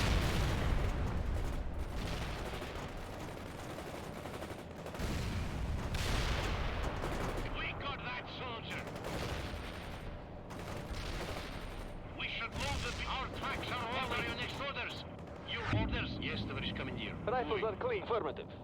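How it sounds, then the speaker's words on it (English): Grenade launcher and artillery fire in World in Conflict, a real-time strategy game, rumble through a bridge battle as repeated blasts and gunfire bursts over a steady combat din, with a voice talking over the fighting. "Fire at the target. Launch those grenades! Grenades, now!"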